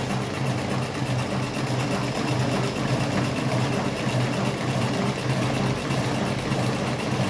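A cigarette filling machine runs with a steady, continuous mechanical hum and rapid rattling whir, loud and unbroken throughout with no voices.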